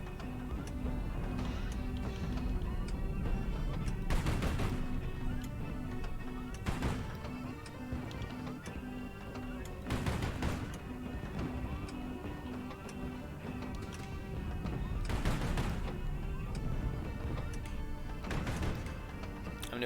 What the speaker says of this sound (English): if all they're going to do is sit there and pound me with missiles, I can do this all day. Those shots are a bit more damaging.